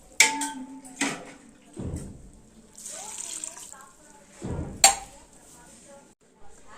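Water splashes and pours into a metal pressure cooker in short bursts, with clinks of the vessel between pours.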